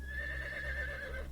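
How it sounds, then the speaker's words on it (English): A horse neighing, a single short, wavering whinny heard fairly close over a low background hum. "Horse,"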